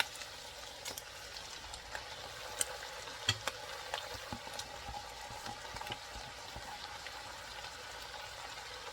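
Garlic cloves, mushrooms and green peppers cook in a pan for a meaty spaghetti sauce, a steady soft sizzle with scattered crackles and a few sharp pops, moderately quiet and without talk.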